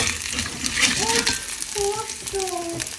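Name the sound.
tofu frying and scraping in a new wok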